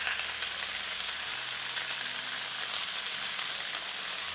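Harvested vegetables with green beans stir-frying in a pan with broth and salt, a dense continuous hiss and crackle, close and steady with no voices.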